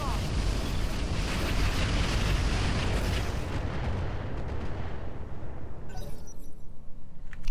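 In the mech combat game Roguetech, a weapon fires and an explosion erupts with a loud, rumbling boom that rolls on and slowly fades, followed by a few sharper crackling hits.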